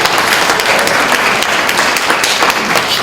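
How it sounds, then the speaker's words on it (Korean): Enthusiastic applause from a church mission seminar audience, a loud, dense, sustained burst of many hands clapping close by, steady throughout with no talk over it. "이럴 때는 박수를 쳐야 됩니다"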